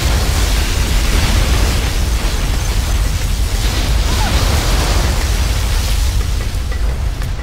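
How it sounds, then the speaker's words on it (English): A particle cannon blast in Command & Conquer: a loud, unbroken roaring wash of noise that stays at full strength for about seven seconds. "Warning, particle cannon activated."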